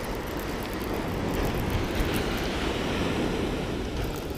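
Ocean surf rolls onto the beach at Delaware Seashore State Park, a steady broadband wash of breaking waves with some wind across the microphone, alone and without any talk.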